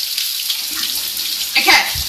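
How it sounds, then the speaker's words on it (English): A kitchen sink tap runs with a steady, close hiss of flowing water that rises briefly near the end. "I literally just put it in front of the sink with the water running."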